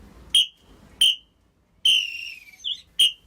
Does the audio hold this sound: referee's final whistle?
yes